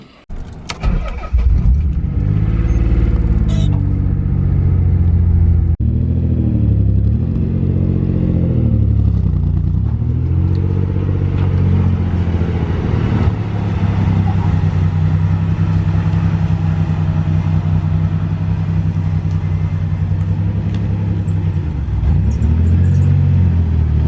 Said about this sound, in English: I gotta pull 300 out of the garage and then pull the Elantra in